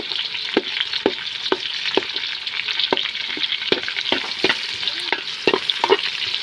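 Food sautéing in a pan with no garlic, a steady sizzle under repeated sharp scrapes of a utensil stirring against the pan at a loose, uneven rhythm.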